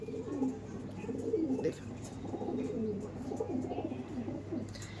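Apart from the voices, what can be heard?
pigeons cooing, male and female pigeon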